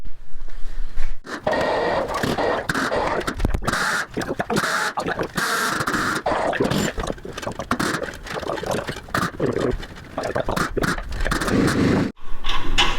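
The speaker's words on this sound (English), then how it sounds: "if you want to go ahead and slide the axle under" A truck lift axle is slid under a truck frame, giving a long, loud stretch of dragging, scraping and grinding metal with irregular knocks and pulses throughout.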